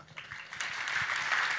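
An audience at a business and marketing talk in Nantes applauds steadily at moderate distance, a continuous wash of clapping that grows slightly fuller over the stretch.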